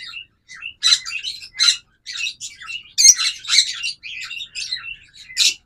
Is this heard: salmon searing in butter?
no